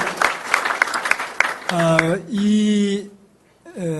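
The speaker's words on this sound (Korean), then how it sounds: "큰 박수로 좀 우리 감사를 드리겠습니다" Applause fills the opening second and a half at a Suwon city directors' meeting, honoring police, education office and city officials, then a voice speaks over and after the fading clapping.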